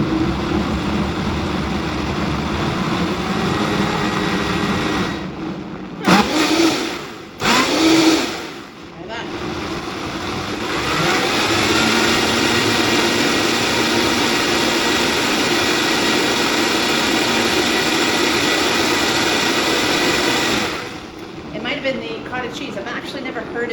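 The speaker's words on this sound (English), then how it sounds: "I love my Vitamix." A Vitamix blender whirring through cottage cheese, a steady loud motor drone broken by a few short pauses and restarts, with someone talking over it at times.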